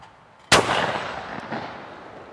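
A single sharp gunshot from a Tristar Setter 12 gauge over/under shotgun fired at clay targets, loud and close, its boom rolling off into a long fading outdoor echo.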